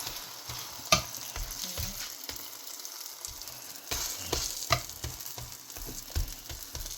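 Semolina roti cooking in a pan: a low, continuous sizzle up close with irregular scraping and tapping as the flatbread is turned, plus a few sharp clicks.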